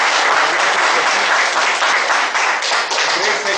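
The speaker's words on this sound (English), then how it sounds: "We'll give a round of applause to all of you" Steady, dense applause from a seminar audience at a speakers forum fills the room, loud and continuous for several seconds with no gaps.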